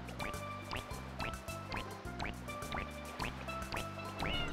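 Watery squirting and dripping bursts from water spraying in Super Mario Sunshine repeat in quick succession over steady background game music.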